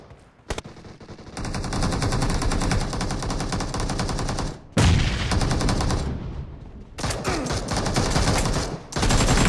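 Dense automatic and rapid gunfire from a PUBG team deathmatch match fills the stretch almost without pause, loud and close, broken by brief gaps of near-silence between bursts.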